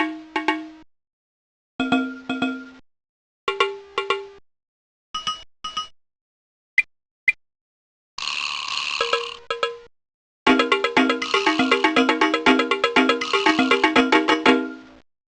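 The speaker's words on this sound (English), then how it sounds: "Give a listen and then tell me how many are ringing bells and how many are shaking" Cartoon cows in a Fisher-Price kindergarten game ring bells and shake maracas: several short, clear, bright bell phrases with gaps between them, followed by a rattling shake and then a dense, busy stretch of bells and shaking together.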